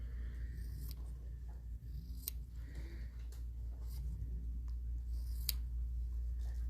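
Scissors trimming the corners of a quilted mug rug, a few quiet, sharp snips spaced out across a nearly silent stretch, close to the microphone.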